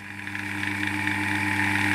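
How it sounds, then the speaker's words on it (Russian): An electric motor on a two- and three-location control circuit, switched on from push-button station two through a contactor, runs with a steady, even hum and faint whine that builds a little in loudness, close up and alone. "Включаю двигатель с поста номер два."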